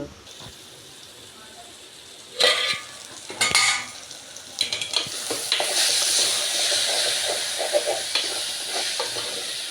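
Onions, green chillies and tomatoes sautéing in a pan for mutton curry, a steady sizzle that swells and stays loud, broken by sharp bursts of stirring and scraping.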